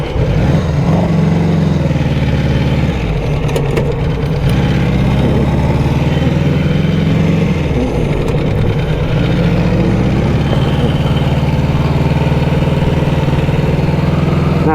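A Matchless Silver Hawk motorcycle, geared up three teeth on the engine sprocket, runs steadily on the road with a continuous mid-pitched engine drone and slight shifts in revs throughout, close and loud with no talking.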